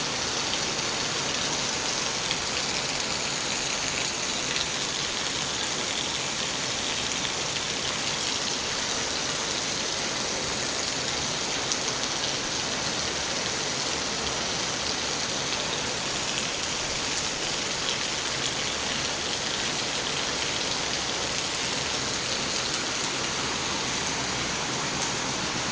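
Heavy rain pours steadily and loudly for the whole stretch, a dense, even hiss of drops drumming on surfaces close by, with no voices.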